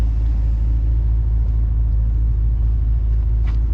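A 2013 Bentley Continental Flying Spur Speed engine idling with a steady low rumble, constant and close, with no talking.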